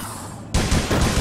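Gunfire from the video game APB Reloaded erupts suddenly after a quiet moment: a loud, close burst of shots that keeps pounding in rapid succession to the end.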